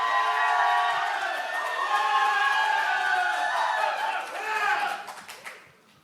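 A large crowd at a Democratic Party leadership primary rally cheers and shouts in a sustained roar, with voices calling out over clapping before the noise tapers off at the end.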